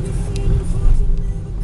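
Moderate early-morning city traffic rumbles around Quezon City Circle, with a big bus and cars passing close by in a low, steady engine drone that swells midway, and a voice briefly heard over it.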